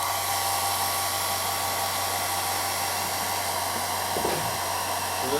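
Hair dryer blowing steadily while drying paint on a scale model, a constant whirring hum with an even level throughout and no speech.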